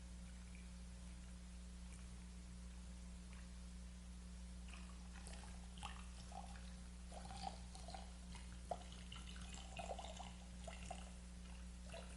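Liquid poured slowly during a chapel blessing ceremony, a soft, faint trickle and patter of small splashes over a steady low hum, growing a little more active toward the end, with no talking.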